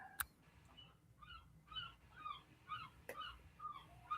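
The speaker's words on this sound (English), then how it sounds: "All of a sudden, I hear seagulls." Seagulls call outside during a phone conversation, a series of short, fairly faint cries repeating every half second or so. Two sharp clicks and a low background rumble come through the line along with the gull calls.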